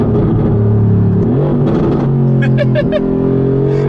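A Mercedes-AMG G63 with a 4.0-litre bi-turbo V8 revs and accelerates hard on a road, its engine note loud and rising, with a brief burst of higher-pitched revs near the end.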